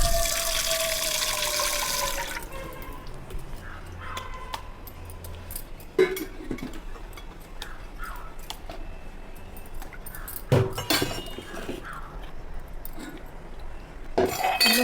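Dishes being rinsed with water in a bowl at home, with a strong rush of running water at first, then quieter splashing and sharp clinks of utensils against the bowl at intervals.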